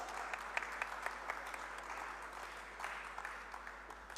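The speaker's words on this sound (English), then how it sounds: "Let's give Irisa another huge round of applause." Faint, distant clapping from a TEDx audience, a thin scattered patter of hands with a few sharper claps poking through a low background hum.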